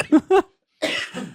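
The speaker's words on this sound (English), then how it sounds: "I apologize for my coughing." Several coughs from a person recovering from illness, two short harsh bursts close to the mic followed by a longer rougher run of coughing, heard in a podcast setting.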